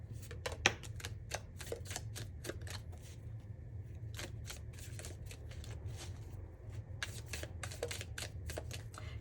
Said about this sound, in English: Let's shuffle for some tea leaf fortune cards for you.